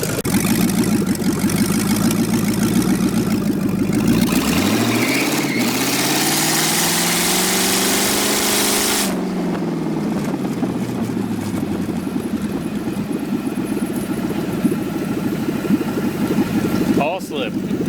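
An LS V8 engine swapped into a Mazda Miata-based kart runs loud and steady throughout, its pitch sweeping up and back down mid-clip as it revs under load, with people talking over it.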